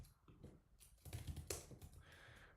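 Fast typing on a computer keyboard, a steady run of close, quiet key clicks with a few louder taps and no talking.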